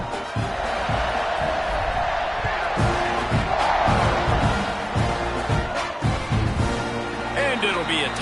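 A home crowd roars and cheers steadily at a season-opening football game, a dense wash of voices heard close, with a commentator talking over it.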